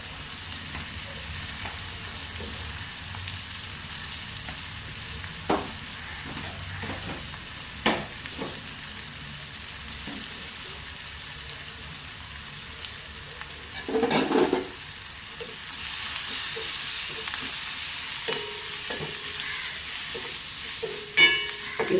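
Chili frying in a pan as it is stirred, a steady hissing sizzle with scattered scraping knocks from the spatula, growing slightly brighter and louder in the second half, no voices.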